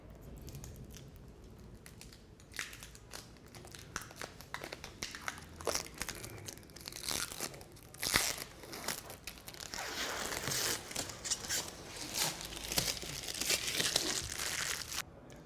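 Protective packaging film peels and crinkles off a MetaDefender K3000 unit during unboxing, with close, irregular crackling, tearing and crumpling bursts that grow denser over about fifteen seconds, without talking.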